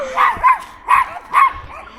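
A dog gives four quick, yipping barks in an even rhythm, close and fairly loud, outdoors near rubbish.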